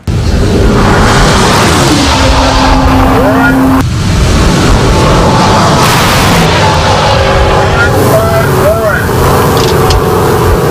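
Race car roaring past during the Big Bend Open Road Race on a rural West Texas highway, loud engine whine rising and falling through gear changes amid a dense wash of noise, with a voice speaking over it.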